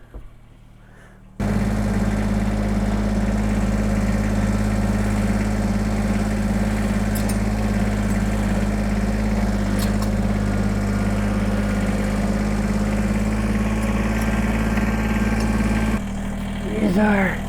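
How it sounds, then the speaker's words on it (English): A steady, low engine idle rumbles continuously with a constant drone, starting abruptly and running evenly throughout, with faint background noises. "let's go get the tractor and cruise her in"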